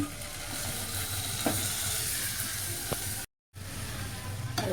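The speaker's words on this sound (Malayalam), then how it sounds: "ഇതിലേക്ക് നമുക്ക് തക്കാളി ഇട്ട് കൊടുക്കാം." Finely chopped tomatoes go into browned onions in a hot pan, producing a moderate, even sizzle with light stirring ticks, cut by a brief dropout of silence before the frying resumes.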